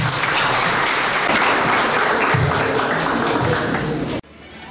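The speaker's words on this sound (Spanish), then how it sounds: "Ustedes díganos sí o no, si aplauden o no." An audience at an event about a project to strengthen disaster resilience breaks into loud, dense applause, many hands clapping continuously and evenly for about four seconds before it cuts off abruptly.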